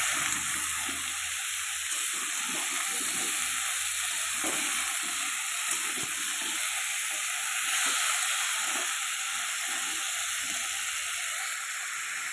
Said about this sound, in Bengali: পেঁয়াজ আর টমেটো ভালো করে ভাজা হয়ে গেলে ওর মধ্যে আলু আর পেঁপেটা আমি দিয়ে নেড়ে চেড়ে একটু ভেজে নেব।